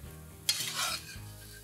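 Potatoes pan-fry with onion and sausage, giving a soft sizzle beneath one sharp clack of a utensil and a short stirring swish. The sound is fairly quiet and no one talks.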